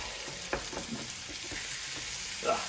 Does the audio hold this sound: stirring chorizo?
yes